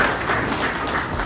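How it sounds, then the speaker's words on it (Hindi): An audience at a trust's anniversary celebration in Bhopal applauds, a dense, loud wash of clapping running unbroken through the short moment. "ताली बजाओ भैया, ताली।"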